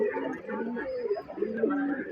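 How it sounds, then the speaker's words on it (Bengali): A pigeon in a loft coos in low, rolling phrases at close range, with a few higher chirps and a faint background hum. "আমার বাড়ির সবচেয়ে পুরান কবুতরে দেখেন"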